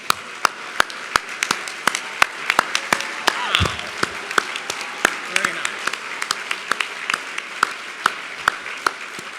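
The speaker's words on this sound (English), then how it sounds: "please stand right now so we can applaud you" Audience applause for the 2014 honorees at the Orange County National Philanthropy Day event: a steady crowd clap with sharp, regularly spaced close claps standing out above it, and voices murmuring underneath.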